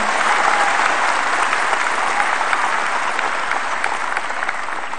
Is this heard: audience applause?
yes